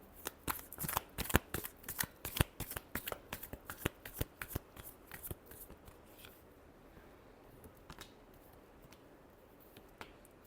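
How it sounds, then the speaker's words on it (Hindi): A deck of tarot cards is shuffled by hand in quick, crisp bursts of riffling and flicking, loud and close for the first six seconds, then trailing off into a few sparse, faint taps. "Last shuffle."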